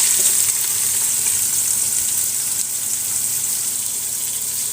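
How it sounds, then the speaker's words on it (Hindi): Three sliced medium onions fry in hot oil for aloo keema, giving a loud, even, close-up sizzle that hisses steadily throughout without any talking. "अब इसके अंदर मैं प्याज फ्राई करूँगी"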